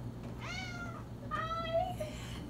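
A domestic cat meows twice up close, each call rising then falling, with a short pause between them in a quiet indoor room.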